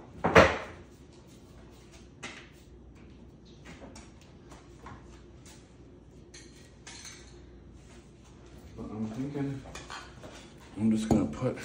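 Heavy bowls are handled and set down with solid clunks, one near the start and a cluster of knocks and scrapes near the end, with quieter handling between and no voices.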